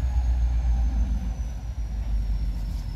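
A large truck passes outside, a heavy, steady low rumble that holds for the whole stretch at moderate loudness, with no talking.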